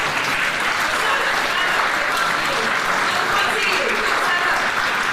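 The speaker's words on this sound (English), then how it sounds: "Let's give her a round of applause" Audience applause at an athletics track opening Q&A, steady dense clapping from a crowd filling the space throughout, with some voices mixed in.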